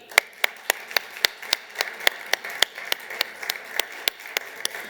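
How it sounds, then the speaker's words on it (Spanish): Sparse, rhythmic clapping from a small audience greeting Pablo Gil at a talk on AI and the labour market, roughly three or four sharp claps per second, fairly close and crisp, with no talking. "recibamos con un fortísimo aplauso a Pablo Gil"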